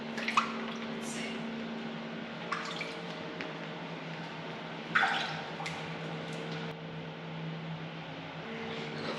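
Sparse water drips fall in a constantly flooded church crypt in Venice, a few distinct drops spaced seconds apart over a steady low hum, fairly faint and without voices.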